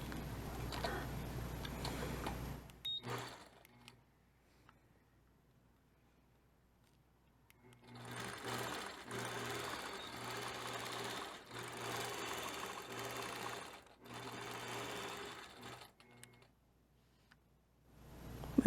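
A sewing machine stitches thread through a quilt in two runs, a fast, steady mechanical whir with close, rhythmic ticking, stopping for several seconds of near silence in between.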